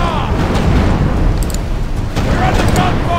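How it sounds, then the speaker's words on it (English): Cannon fire during a pirate ship battle in a video game, dense booming blasts and rumble filling the whole moment, loud and continuous, with a player's voice over it. "Oh, we are under gunfire."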